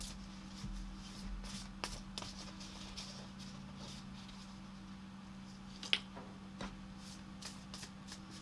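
Cards from an animal tarot deck being shuffled at close range, a soft continuous riffle and patter with a few sharper flicks and slaps, over a low steady hum.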